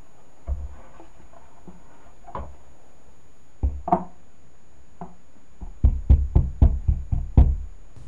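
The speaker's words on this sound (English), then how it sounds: "The moment of truth, the knock test." Knuckles rap on a bass tube subwoofer enclosure, producing hollow, resonant knocks: a few scattered taps first, then a quicker run of firmer knocks near the end, close and clear with no talk.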